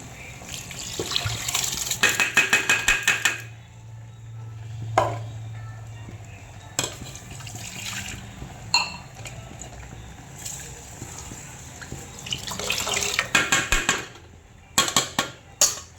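Water runs and sloshes in a sink while rice is swirled and rinsed, with occasional clattering and scraping of a pot.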